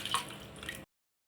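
Water is poured into rice for karamani rice, a short close splash and trickle that stops abruptly into silence.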